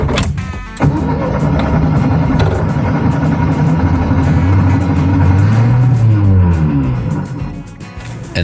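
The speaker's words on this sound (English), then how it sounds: "this is how I learned to properly start a warmed up VW Bug." A warmed-up 1969 VW Bug engine cranks and catches, then runs with a loud, close, throaty idle and a rev that rises and falls midway before settling.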